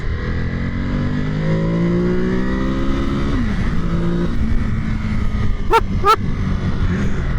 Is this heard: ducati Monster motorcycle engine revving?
yes